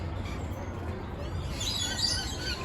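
Faint bird chirps at Busch Gardens Tampa, a few soft high tweets toward the end over steady outdoor background noise.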